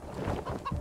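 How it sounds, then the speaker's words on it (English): A chicken in the video game Wasteland 3 gives a few quick clucks, close and clear over low game background noise, with no voices. "That chicken is kind of hilarious."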